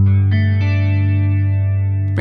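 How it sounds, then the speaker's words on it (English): Electric guitar played through a Neural DSP Soldano SLO 100 amp model with a swirling, rotary-speaker-like modulation effect, sustained chords ringing loud and alone with a fresh strum partway through. "it almost has like a rotary sort of speaker sound about it."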